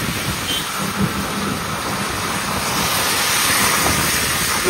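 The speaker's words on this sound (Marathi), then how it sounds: "लोणावळ्याच्या पाठीमागं भरपूर पाऊस पडतोय" Heavy rain near Lonavla pours down in a steady, dense roar that stays loud and unbroken throughout, with no voices.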